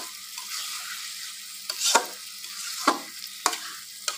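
Small mixed fish frying in spices for a bhuna, with a soft, quiet sizzle broken by a few sharp spatula scrapes against the pan at irregular intervals.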